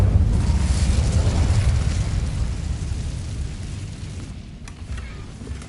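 Incendio fire spell in Hogwarts Legacy, a roaring, crackling burst of flame that starts loud and slowly dies away over several seconds, with a brief crackle near the end.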